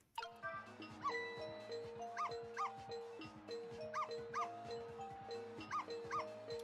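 A dog in the video game Ghost Trick: Phantom Detective yips repeatedly in quick pairs over a steady musical loop, the barks fairly clear and evenly spaced.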